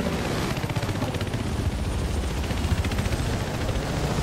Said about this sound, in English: the fucking helicopter's too loud